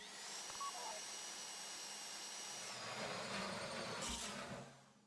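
A heist drill bores into a bank vault in GTA V during a Fleeca job and overheats, giving off a steady loud mechanical whine and grind. It runs on for about five seconds, then shifts pitch and fades out at the end, with no speech.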